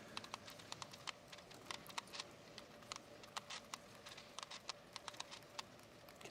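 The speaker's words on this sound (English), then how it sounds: "You can hear the clicking of the clock." A Rubik's Clock puzzle solved blindfolded at a cubing championship gives quick, faint, irregular clicks that come in uneven bursts over a quiet hall background.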